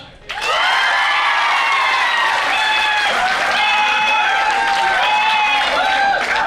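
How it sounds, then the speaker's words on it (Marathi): A large crowd at a youth fest talent contest claps loudly and steadily for several seconds, with shouts and whistles rising over the dense applause. "एक बार मेरे भाई योगेश के लिए ताली बजाओ"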